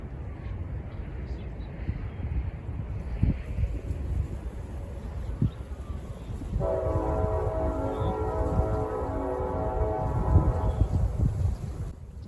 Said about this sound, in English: a Norfolk Southern southbound mixed freight train made its way down the Sandusky District